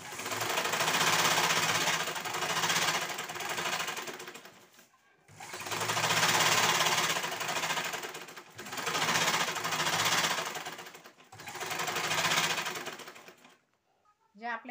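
Sewing machine stitching along a folded cloth strip, with loud, close mechanical chattering in four long runs separated by short stops, ending with quiet handling sounds.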